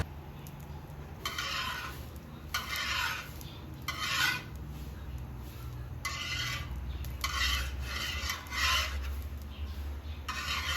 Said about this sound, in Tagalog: scatter lang para lahat ng part ng kawali or karwagan ay merong mantika